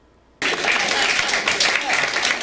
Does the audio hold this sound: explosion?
no